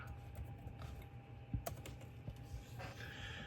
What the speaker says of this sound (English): I have to go to a Google page and type in quartzsite weather